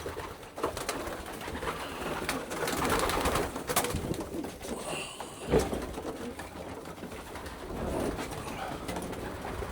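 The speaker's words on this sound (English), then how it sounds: "You know, you've got the pigeons there, obviously." Racing pigeons in a loft coo softly and repeatedly against a busy background of rustling and shuffling, with a sharper knock partway through and no one talking.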